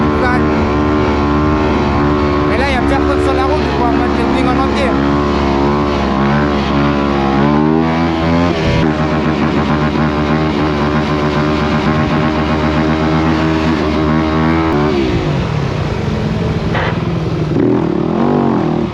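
Motorcycle engine under load while riding, a loud continuous drone with shifting pitch as the rider accelerates and changes gear, steady road and wind noise throughout and brief voice in the mix.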